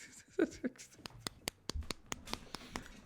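A wooden ladle slapped against a thigh to imitate clapping, a near, fairly quiet series of about a dozen dry smacks at an uneven, quickening rhythm, with brief voice at the start.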